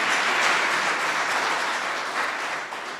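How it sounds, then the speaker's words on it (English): A dense burst of crowd applause at an Ignite Salisbury gathering, loud and continuous, starting to thin out and fade toward the end. "a big round of applause for them"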